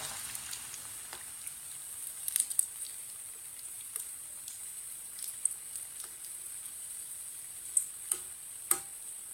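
Aloo tikki frying in a pan, a soft steady sizzle with faint scattered crackles and a few sharp pops near the end.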